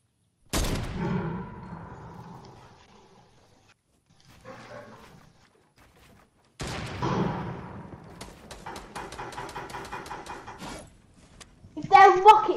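Gunshots in Fortnite, with a sharp isolated bang, then a later shot followed by a rapid rattling string of fire and a bright burst at the end, amid quiet gaps and a voice.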